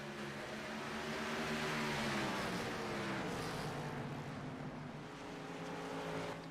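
A race car holds a loud, sustained engine note as it carries speed through turn 1 at Five Flags Speedway in the NSRL Grand National Series, the roar staying steady and close with no talk over it.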